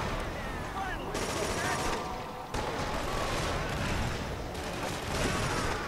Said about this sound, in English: I'm just shooting everything here.